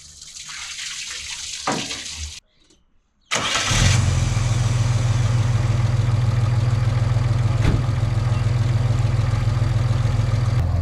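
After a brief gap, a classic car engine starts up and settles into a steady, loud, low rumbling idle that continues throughout.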